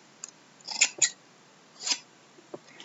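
Scissors snipping through a piece of organza fabric, a few short, crisp close cuts in two quick pairs followed by a single snip, quiet between.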